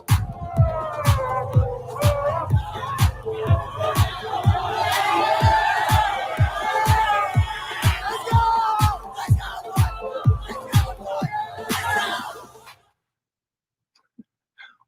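A school crowd cheers and claps at a clap-out event, with loud rhythmic clapping and cheering voices for about twelve seconds before it stops abruptly.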